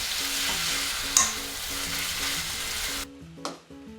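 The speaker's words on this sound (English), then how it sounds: "add the bean sprouts and give it all a good mix." Yakisoba noodles with bean sprouts and sauce sizzle and crackle loudly in a hot pan, with rhythmic scraping and tossing as they are stir-fried, then a brief pause and a final clatter.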